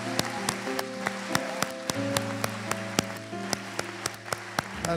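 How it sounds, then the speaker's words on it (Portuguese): A church congregation applauds after a sermon on the parable of the talents, with a continuous patter of clapping laid over sustained keyboard chords and sharp individual claps standing out. "Vamos aplaudi-lo."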